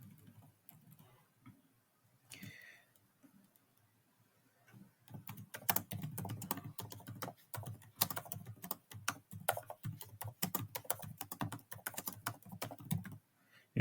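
Someone types on a computer keyboard in a quiet room. There is a brief tap early on, then a steady run of clicky keystrokes that keeps going to the end.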